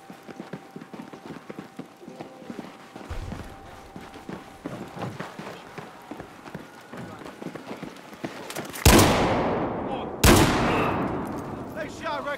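Rapid gunfire crackles through a Battlefield 4 firefight, a steady run of shots under shouting voices, then two loud, close blasts near the end.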